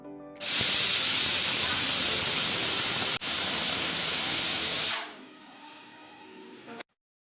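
A pressure cooker on a home kitchen stove lets out a loud, harsh hiss of escaping steam that blasts continuously for several seconds, briefly drops, then weakens into a softer hiss before stopping.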